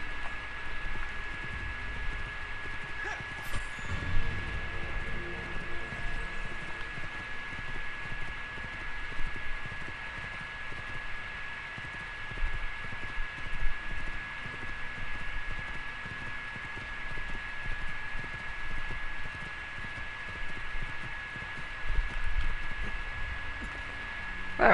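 Horse hooves galloping in the Assassin's Creed II video game, a steady rapid clip-clop running continuously over a hissy, humming game soundscape with no talk.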